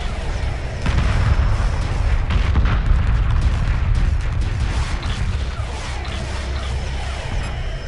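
Sustained space-combat barrage in the Homeworld remastered strategy game, dense overlapping cannon fire and rumbling explosions booming continuously and loudly without pause.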